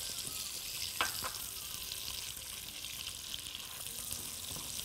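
Butter and sugar sizzle steadily in a pan while being stirred to caramelize, a soft continuous frying hiss with a few scraping and clinking touches near the start.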